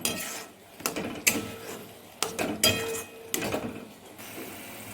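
Aar fish chilli masala being stirred and fried in a pan, with intermittent sharp clinks and scrapes of a utensil against metal over a soft background sizzle, several distinct knocks spread across the stretch.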